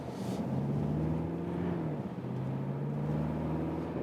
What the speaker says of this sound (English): Diesel doesn't sound too old, I would say. Sounds quite refined.